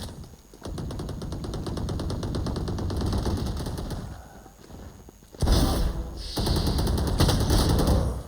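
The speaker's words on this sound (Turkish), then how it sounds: "Abi ya niye vuruyorsunuz ki beni?" Rapid automatic gunfire rattles in a first-person shooter deathmatch, sustained bursts close and loud, pausing briefly before another dense volley.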